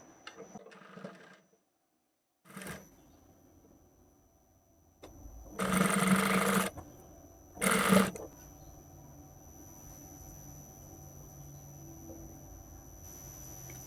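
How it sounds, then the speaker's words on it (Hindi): A sewing machine runs over a lace seam for a few short bursts, two main runs of rapid stitching separated by quiet pauses with a faint hum. "बिल्कुल पहले वाली सिलाई के ऊपर ऊपर ही हमने सिलाई चला देनी है"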